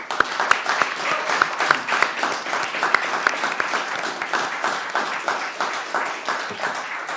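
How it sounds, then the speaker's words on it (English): Audience applauding a speaker at a talk event, dense sustained clapping from a crowd with a few sharper nearby claps standing out, continuous and fairly loud throughout. "Round of applause for."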